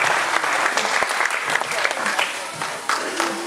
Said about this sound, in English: We'll give her a big round of applause when she makes that.